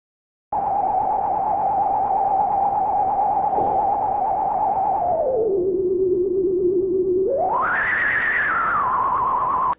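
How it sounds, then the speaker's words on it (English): A wavering electronic theremin-like tone holds a steady pitch, glides down low, then swoops up high, drenched in reverb and sounding eerie. "So that's the spooky theremin."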